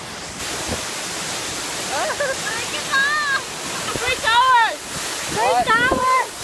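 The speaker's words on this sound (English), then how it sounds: "The waterfall, so pretty." A waterfall among the mountains and Miao ethnic villages of China gives off a steady, broad roar throughout, while several voices talk and exclaim over it in the foreground.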